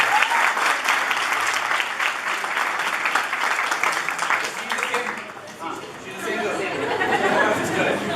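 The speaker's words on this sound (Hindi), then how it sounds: "तालियां हो जाए" A classroom audience applauds a student at a commerce coaching institute with sustained clapping that dips briefly, then picks up again, mixed with crowd chatter.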